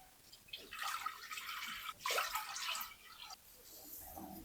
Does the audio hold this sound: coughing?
no